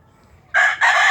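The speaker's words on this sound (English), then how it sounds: "Here we are out in the rooster yard." Roosters crow out in a rooster yard, a loud, close crow that breaks briefly and then carries on, rising sharply out of quiet background noise.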